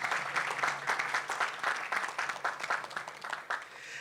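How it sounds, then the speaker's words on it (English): An audience at a mental health seminar claps in a lively burst, many hands striking at once in a crisp, rapid patter that stays fairly even throughout. "I would have clapped after this statement."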